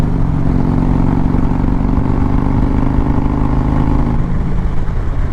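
Harley-Davidson Street Glide motorcycle exhaust while riding on a highway, a loud steady engine drone with low harmonic rumble and wind noise throughout, no talking.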